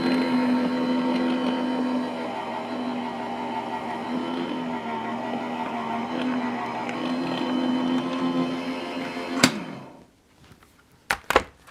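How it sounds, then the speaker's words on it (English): An electric die cutting machine runs with a steady motorized hum and whir for several seconds, then stops, followed by a few sharp clicks and taps close by. "And I'll just run this through my die cutting machine."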